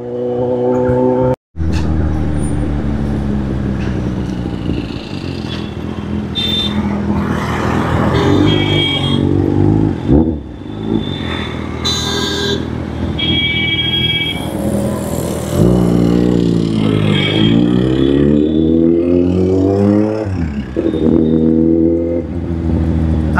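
A motorcycle with a suspected ABS brake fault rides through congested one-way city traffic, its engine revving up and down continuously with gear changes and passing vehicles around it.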